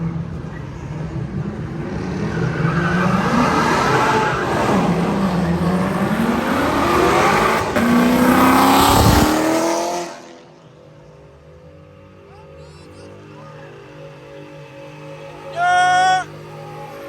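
A car spins and revs hard at a car meet, a loud sustained engine roar with tire squeal for about ten seconds before cutting off. Crowd voices and shouts follow, with a short sharp burst near the end.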